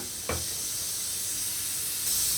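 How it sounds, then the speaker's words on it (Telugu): Two tablespoons of oil and a tablespoon of ghee sizzle in a heated pan for vegetable khichdi, a steady close, bright hiss with a brief pop near the start and no talking. "pan heat ఎక్కినాక 2 table spoons oil వేసుకొని ఒక టేబుల్ స్పూన్ నేను నెయ్యి వేసుకున్నాను"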